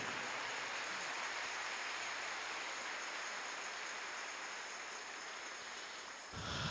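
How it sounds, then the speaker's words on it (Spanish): A church congregation applauds in praise, a steady, hissing wash of many hands clapping at once that sounds distant and blurred, continuing evenly before cutting off near the end. "Denle un fuerte aplauso al Señor en este momento"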